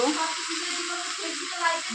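Spice powder hits onions fried light red in a pan, giving a steady, close sizzle that carries evenly throughout with no talk over it.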